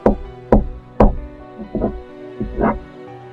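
Someone knocks on a classroom door in a Halloween story: three loud, evenly spaced knocks, then a few softer, scratchy taps, close and dry with no voices.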